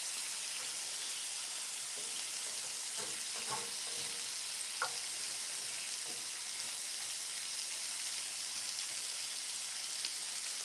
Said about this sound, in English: So I'm going to let it sizzle for a little bit.